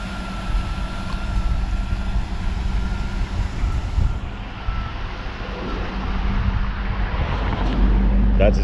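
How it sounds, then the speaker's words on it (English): Chevrolet LT1 V8 idling after a cracked rear spark plug was replaced, a steady low rumble holding evenly throughout with no talking. "I'm gonna pull over here for a second and just analyze it real quick and see how it's sounding at idle"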